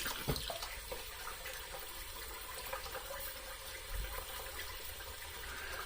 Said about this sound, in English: We're not washing off all the soap, we're just washing off a little bit.